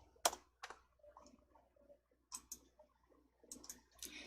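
Computer mouse clicking during Excel spreadsheet formatting work: a handful of sharp, quiet clicks scattered irregularly, some in quick pairs, over a near-silent background.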